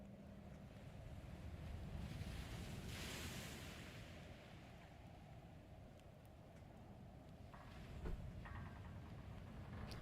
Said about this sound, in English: where the fuck is the ocean at in here? And why is it so loud?